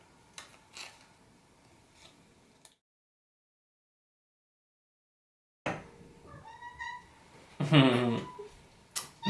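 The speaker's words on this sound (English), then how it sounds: "Maybe you can hear our cat coming in." A cat meows several times close by, with rising, harmonic cries and a loud final yowl after a stretch of silence.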